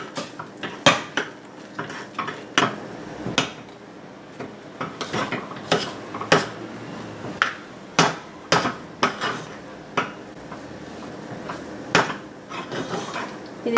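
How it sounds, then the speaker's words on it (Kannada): Metal utensils clatter and scrape in a pan as rice flour dough with salt and oil is stirred, giving irregular sharp knocks and clinks at close range over a quiet background. "ಉಪ್ಪು ಮತ್ತು ಎಣ್ಣೆ ಹಾಕಿ ಮತ್ತು ಅಕ್ಕಿ ಹಿಟ್ಟನ್ನು ಹಾಕಿ ಚೆನ್ನಾಗಿ ಮಿಕ್ಸ್ ಮಾಡಿ ಇದನ್ನು"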